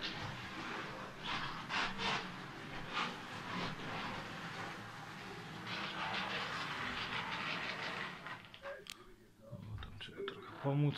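A small electric motor whirs steadily as a 3D-printed model EU07 electric locomotive runs along a track with rattling wheel noise, while someone talks over it; the running sound continues throughout at close range.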